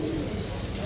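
Pigeons cooing at a pigeon market, with soft low coos and bird calls over a steady bustle of background market noise; no clear speech.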